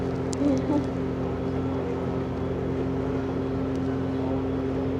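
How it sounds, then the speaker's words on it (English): Steady broad rushing noise with a low droning hum underneath, constant throughout, like wind buffeting a microphone outdoors. "It's getting windy up in this bitch."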